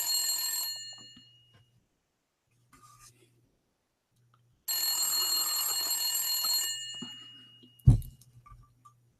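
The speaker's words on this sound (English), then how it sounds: "Let us call Zakir Naik" An old telephone rings during an outgoing call, two long bursts of bright metallic bell ringing separated by silence, loud and close, with a faint steady hum underneath and a sharp thump near the end.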